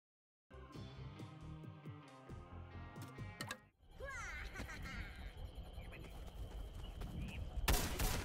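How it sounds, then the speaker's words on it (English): Scallywag weapon in Plants vs. Zombies Garden Warfare 2 firing in three-round bursts over game music and effects, with a loud broadband blast of shots near the end. "he fires in a three burst"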